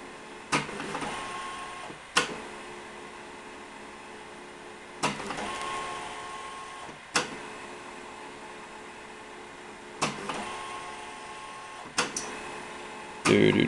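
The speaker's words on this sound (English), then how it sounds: "We're just going to wait for it to get done printing and take a look at the document." Magnavox Video Writer 250 word processor printing a page, a steady mechanical printer whir punctuated by sharp periodic clacks every couple of seconds, close and alone.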